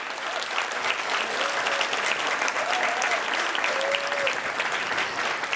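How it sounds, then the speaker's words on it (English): Sustained applause from a crowd, steady and full, with a few voices faintly audible underneath. "But a big round of applause for them."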